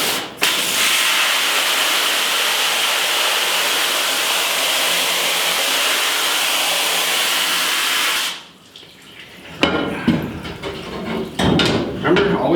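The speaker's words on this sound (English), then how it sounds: "Now I have to rinse this off really good." Steady, loud rush of water spraying over a screen-printing screen to rinse off degreaser runs unbroken for about eight seconds, then cuts off, leaving quieter splashes and handling noises.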